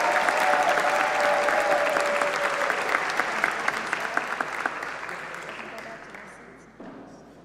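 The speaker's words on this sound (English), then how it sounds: "Let's give another round of applause for our aerospace engineering majors." Audience applause at a university Order of the Engineer ceremony for aerospace engineering graduates, sustained dense clapping from a large crowd that gradually thins and fades toward the end.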